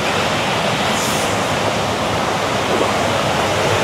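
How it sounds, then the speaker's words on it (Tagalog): Loud, steady rush of river water close to a waterfall in Laguna, a dense continuous roar of churning water filling the whole clip without voices. "Ang sarap ng tubig, yung lagaslas ng tubig, ang sarap sa tenga."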